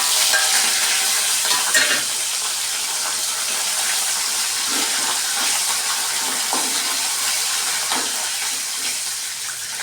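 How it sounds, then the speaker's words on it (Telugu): Garlic and curry leaves sizzle in hot oil for lemon rice, a loud continuous frying hiss with occasional stirring scrapes and no talking. "ఇవి బాగా వేగుతున్నాయి అన్నప్పుడు వెల్లుల్లి, కరివేపాకు కూడా వేసేసుకుందాం."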